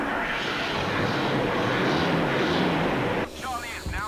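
Aircraft engine in Battlefield V turning over and settling into a steady, loud drone that holds for about three seconds, then cuts away abruptly to quieter sounds.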